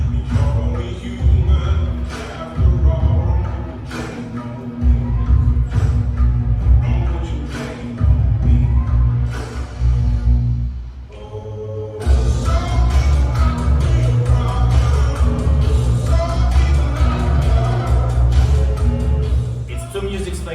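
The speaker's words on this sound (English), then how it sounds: "It's like the original music with bongos on top of it." Bachata music with bongos layered over the original track, a dense, steady groove of percussion and bass playing continuously, briefly thinning out before coming back in full.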